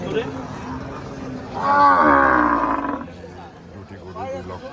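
A cow moos loudly and close at a livestock market, one sustained low bellow lasting over a second, surrounded by crowd noise and people talking nearby.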